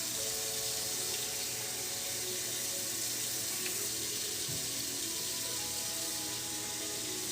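Water runs steadily from a tap over a tie-dyed rainbow shirt being rinsed, a continuous close hiss with faint splashing and no talk.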